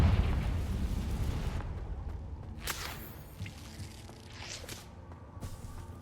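A Confringo fire spell blast in Hogwarts Legacy, a loud booming burst at the start that decays into crackling, whooshing hits and sharp snaps from the fight, with no voices.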